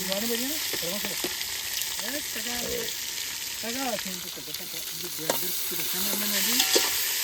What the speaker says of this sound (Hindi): तड़का लग गया, तड़का